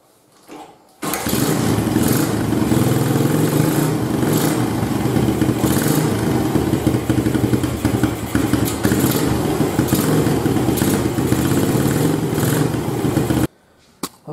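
Motorcycle engine cranks and fires after a CDI replacement, then settles into a loud, steady close-up idle that runs continuously for about twelve seconds before cutting off.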